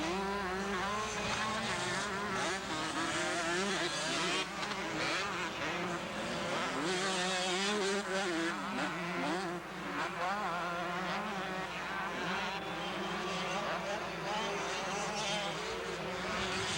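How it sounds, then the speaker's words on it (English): Motocross motorcycles racing at the 1987 Denver national, high revving engines whining and shifting pitch continuously as several bikes pass, loud and sustained, mixed with a commentator's voice. "While Diamond cruises around in front, Guy Cooper is putting on a super ride here in Denver"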